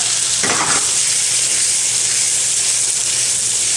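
Jalapenos for a veggie egg scramble fry in a pan with a loud, continuous sizzle and one short stirring scrape near the start.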